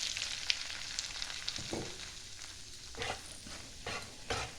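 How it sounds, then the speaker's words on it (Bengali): Gram flour roasting in warm ghee over a medium-low flame gives a soft, quiet sizzle with a few scraping stir strokes and light clinks, close up and without talk. "বেসনটা হালকা ভাজা হবে।"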